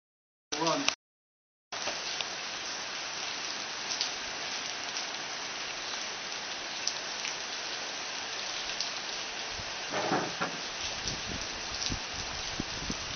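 Rain falling in Kuta, Bali, a steady hiss of drops pattering on surfaces and foliage, continuous and fairly close, with a brief gap near the start and a few louder splashes later.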